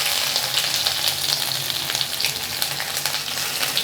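Urad dal and crushed ginger sauté in hot oil, giving a steady, close, even sizzle and crackle with no voices over it.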